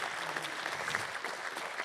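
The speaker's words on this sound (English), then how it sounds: "Can we get one more round of applause for Ed and all the wonderful work that he does?" Brief, fairly faint applause from an audience after a talk on large whale entanglement response in Hawaii, a soft continuous patter of clapping.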